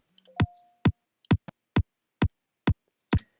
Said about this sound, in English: It's got quite a bit of compression on to get that sounding quite punchy.